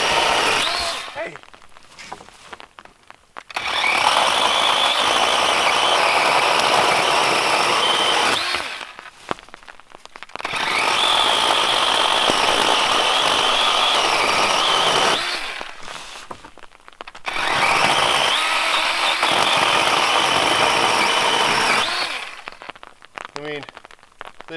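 A chainsaw cuts dense maple firewood, running loud and close in three long bursts separated by short quiet pauses.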